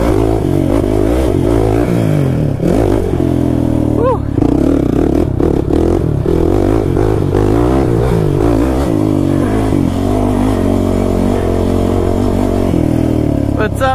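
A Kawasaki KFX 450r quad engine revs and surges while riding a motocross track, its rising and falling whine mixed with wind rush and clattering, with talking over parts of it.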